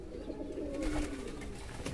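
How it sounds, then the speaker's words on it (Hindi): A red-eyed pigeon coos softly and steadily, a low, faint murmur held throughout with no voices over it. "ये जी माशाल्लाह से तीसरा बेपीजन हमारा लाल आंख वाला कबूतर है"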